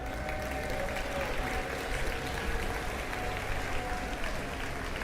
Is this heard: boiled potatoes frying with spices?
no